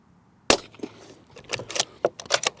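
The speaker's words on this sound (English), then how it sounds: "God, that is so quiet, isn't it?" A suppressed CZ 600 Trail rifle in .300 Blackout fires once, a single sharp but muffled crack after a moment of silence, followed by a series of softer clicks and clatter.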